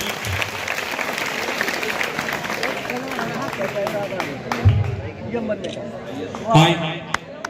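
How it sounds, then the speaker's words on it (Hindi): Children applaud at a Gandhi Jayanti school event at Krishak Inter College, Maholi, with steady scattered clapping and crowd babble throughout and a couple of louder bursts near the end. "तालियां बजाओ बच्चों, तालियां"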